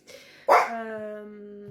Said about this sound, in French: c'est les chiens, parce qu'il y a les enfants qui sont à côté